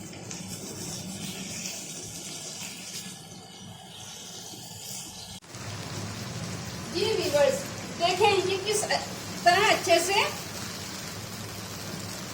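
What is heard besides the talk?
beef karahi frying with ginger, green chillies and garlic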